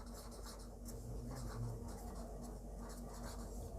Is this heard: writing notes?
yes